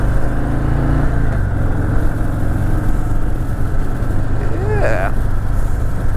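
A 2023 Anniversary Edition Harley-Davidson Fat Boy 114 motorcycle out on a road ride, its steady, loud low engine rumble droning throughout, with a brief high chirp near the end.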